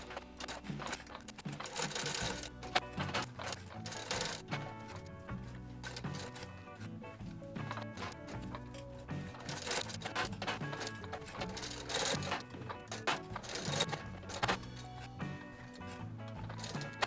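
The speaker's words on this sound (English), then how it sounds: "I'm now going to stitch the rest of the passport holder on the sewing machine" Sewing machine stitching a Buttero leather passport holder, a steady fast mechanical chatter of needle strokes running continuously at close range with no talking.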